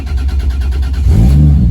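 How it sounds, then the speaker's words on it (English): A Toyota Supra MkIV engine cranks and catches on the key, then revs up loudly and close by, with a rising roar. "And we're going to turn the key."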